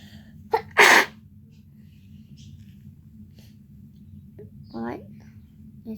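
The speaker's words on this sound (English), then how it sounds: "here's one sneeze." A single sharp, loud sneeze bursts out close by near the start, set against a low steady background hum, followed a few seconds later by a brief vocal sound.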